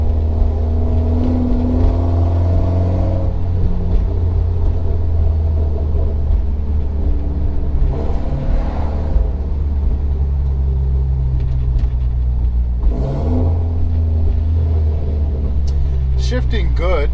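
A Mitsubishi Lancer Evolution X MR engine with exhaust and intake upgrades, tuned for flex fuel, rumbles and revs, rising and dropping in pitch as gears shift, with someone talking over the steady engine noise.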